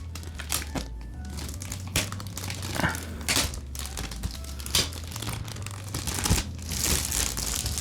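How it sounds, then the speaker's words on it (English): Packing tape is peeled off a collector's edition box for Octopath Traveler 2, giving close, quiet crinkling and tearing with a few sharper rips over a low steady hum. "I'm just gonna take the tape off over here."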